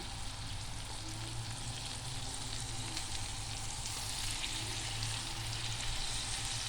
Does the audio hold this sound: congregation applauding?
no